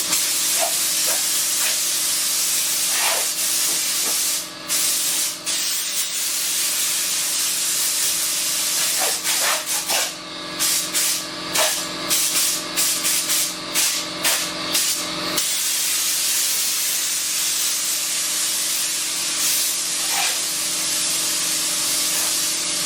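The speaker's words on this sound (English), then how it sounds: "Evidently somebody likes the air hose." Compressed air hissing from an air hose in a workshop during an aluminum trailer rebuild, a loud continuous spray broken by short bursts and pauses as the nozzle is triggered on and off.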